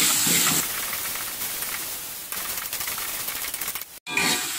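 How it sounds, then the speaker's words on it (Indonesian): Ground spice paste sautés in a pan, giving a loud, dense, continuous hiss and sizzle close by with rough scraping texture, briefly dropping out near the end before resuming. "Kita tumis bumbunya hingga matang ya."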